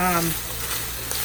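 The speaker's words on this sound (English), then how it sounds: "you can tell how the meat is cooking" Meat fries in a pan with a steady, close sizzling hiss, while a brief faint tone from music in the background fades out near the start.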